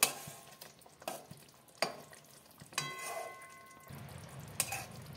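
Katla fish pieces frying in a pan with garam masala as they are turned, giving a steady sizzle marked by scraping and clinking strokes from the spatula.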